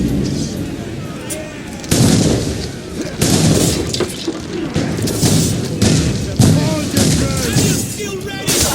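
Heavy ship cannons boom in a naval ambush in Assassin's Creed Rogue, several loud deep blasts in irregular succession with crackling debris, under shouted battle orders from the crew.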